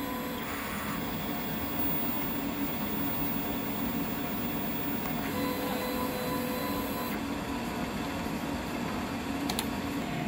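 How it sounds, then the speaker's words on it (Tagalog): An inkjet printer runs a head clean cycle, a loud continuous mechanical whir and hum with slight shifts in pitch and a few faint clicks near the end. "Head clean."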